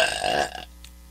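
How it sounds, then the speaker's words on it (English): A single short, throaty burp, close and fairly loud, trailing off quickly into quiet. "Sorry, I'm burping."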